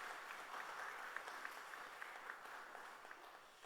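Steady, dense applause from a church congregation at a summer Bible school and Sunday school retreat service, sustained and fairly distant, with a few sharper claps poking through.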